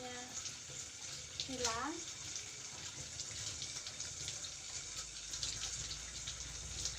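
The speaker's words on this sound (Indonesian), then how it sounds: "Setelah itu kita nyalakan kerannya, dibilas sampai bersih, sampai busanya" A water tap runs in a sink as soapy hands are rinsed clean during a handwashing demonstration, a soft, steady faint stream of flowing water underneath a woman's brief speech.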